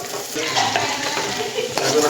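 Onion roasting in a clay pot over an open fire, with no oil, a steady close crackling sizzle and faint stirring scrapes running throughout, without any talk.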